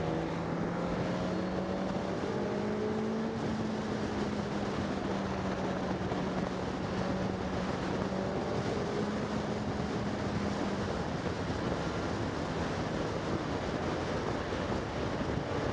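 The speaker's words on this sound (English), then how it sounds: "oh, let me just do this overtake" A Suzuki GSX-S1000 GT motorcycle accelerates to overtake on an open road. Its engine drones steadily and rises in pitch beneath constant heavy wind rush.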